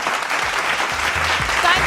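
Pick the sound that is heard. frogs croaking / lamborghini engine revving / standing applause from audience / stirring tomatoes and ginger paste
standing applause from audience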